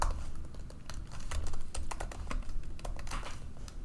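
Fingers tap quickly on a computer keyboard, close and crisp, a rapid uneven run of clicky keystrokes with short pauses and no voices.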